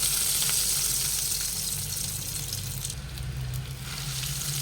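Cheesy corn balls fry in hot oil in a kadhai, giving a loud, dense, continuous sizzle that holds steady for the whole stretch over a low hum.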